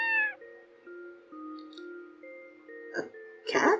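A single clear cat meow opens over a soft, sustained tonal game music bed in the Night Reverie video game, followed by faint chiming notes and a couple of brighter sound effects near the end.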